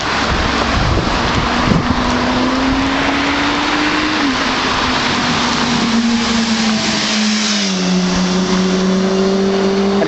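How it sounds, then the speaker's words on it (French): Motorbikes pass along a narrow street in Eze village near Nice, their engines droning and shifting pitch as they go by, with wind buffeting the microphone. "Les deux roues s'en donnent à cœur joie ici."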